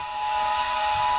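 A Hornby DCC sound Class A4 Pacific model steam locomotive whistle blows steadily and shrilly for the whole moment, a sustained hissy tone with a bright pitched line, loud and close.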